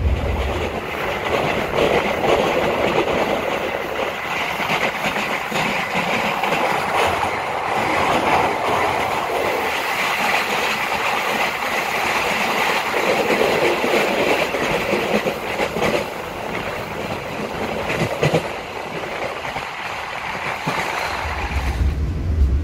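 An Argo Semeru passenger train in Indonesia rolls steadily along the rails with a constant loud rumble and rhythmic clatter of wheels, heard from on board.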